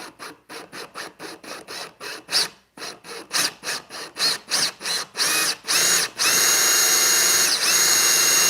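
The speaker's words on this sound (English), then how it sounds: "you just drill down like so." A power drill bores a hole in a Bass Tracker boat to fit rod storage, working in a series of short rhythmic bursts before settling into a long continuous whine, loud and close, with no talking.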